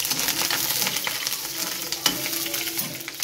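Chicken liver sizzles steadily in hot oil with spices, a close, continuous frying hiss broken by occasional stirring scrapes.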